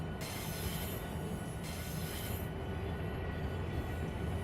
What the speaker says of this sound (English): It always freaks me out when I hear the wheels screeching.